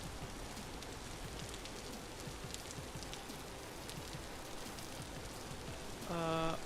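Steady in-game rain patters softly and evenly on surfaces, a faint continuous hiss throughout, with a brief tonal chime rising over it at the end.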